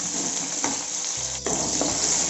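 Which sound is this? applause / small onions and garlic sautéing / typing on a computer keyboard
small onions and garlic sautéing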